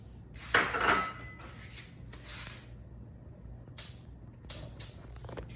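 Chopped bacon bits tipped into a cold pan, heard as a scraping slide and a few light clattering knocks against the metal, close and intermittent with quiet gaps between.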